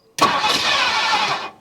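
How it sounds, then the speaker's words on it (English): A 1958 Mercury Montclair Turnpike Cruiser, sitting for 29 years, cranks briefly and fires up with a loud, close, rough engine roar that holds steady for over a second before cutting off. "So let's crank her over"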